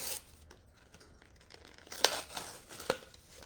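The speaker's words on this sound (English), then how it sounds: "have a section that they taped on here that I have to take off" Tape ripped off a plastic warmer in two short, sharp tearing bursts against a quiet background, close by.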